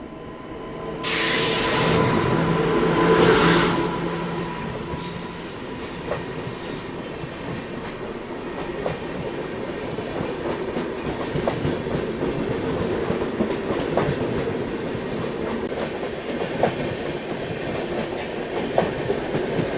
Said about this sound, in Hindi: सामने से कोई तो ट्रेन डिपार्चर ले रही है।